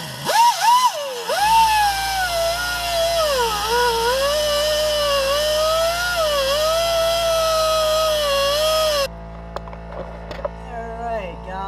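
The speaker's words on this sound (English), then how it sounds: "So I'm just gonna kind of cut it out a little bit, see if I can get the good metal" A power tool whines loudly and steadily for about nine seconds, its pitch wavering as it cuts rusted frame metal, then stops abruptly, leaving faint clicks and handling noise.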